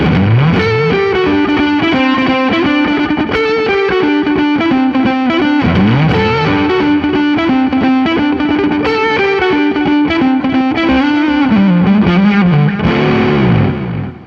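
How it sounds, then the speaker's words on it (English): Electric guitar through a pedalboard set to high gain with delay, a loud saturated riff ringing continuously with echoing repeats. "You can also go to the hot side, which is the same sort of thing with more gain. That sounds, put some delay on."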